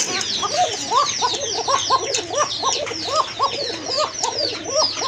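Pigeons coo in a rapid run of repeated rolling calls, close and fairly loud, with faint wing rustles and twittering around them.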